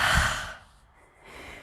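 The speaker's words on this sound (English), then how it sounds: "take 2 cleansing breaths in through the nose and a full exhale through the mouth" Deep cleansing breath during a yoga session in mountain pose: a loud airy exhale rushes out for about half a second, fades to near quiet, then a softer breath returns near the end.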